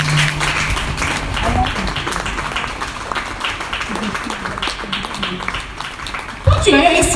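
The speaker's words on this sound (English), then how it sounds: "Please put your hands together for yourself." A conference audience applauds continuously, a dense spread of clapping mixed with voices and cheering, staying loud throughout before a sharper burst near the end.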